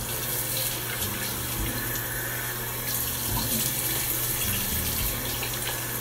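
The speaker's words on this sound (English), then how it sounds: "And then you just have to wash it off with some lukewarm water." Lukewarm water runs steadily from a tap into a sink while a face mask is washed off, a continuous close splashing hiss with no talk.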